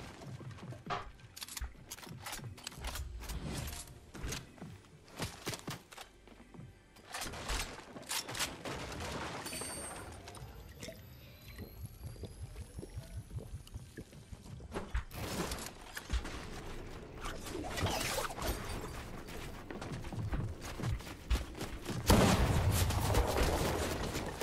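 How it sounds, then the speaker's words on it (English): Gunfire in the Fortnite battle royale game: repeated bursts and single shots from a distant shooter crack out in scattered clusters across the whole stretch, with a louder flurry near the end. "who is this guy shooting from afar"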